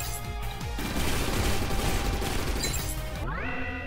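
Rapid gunfire and explosive crashes in a free Steam video game boss fight, a dense, loud barrage over synthetic game tones, ending with a rising electronic sweep.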